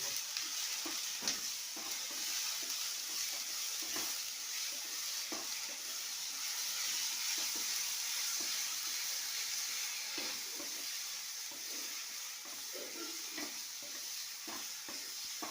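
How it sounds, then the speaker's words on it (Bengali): Pea pods sizzle and frying in a pan with salt and turmeric, a spatula stirring and scraping them in steady irregular strokes, close and continuous with no talking. "এখন আমি এই যে পরিমাণ মতো লবণ আর একটু হলুদ দিয়ে দেবো দিয়ে এখন আবার এটা ভালো করে নাড়িয়ে নেব"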